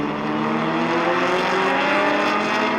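Porsche and Ferrari race cars battle at speed on the Sonoma circuit, their engines a loud, steady, continuous roar throughout without any voices.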